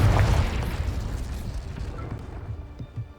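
Confringo fire spell detonates in Hogwarts Legacy with a deep rumbling blast that hits hard at the start, then rolls off into a long, crackling decay and scattered debris, close and loud.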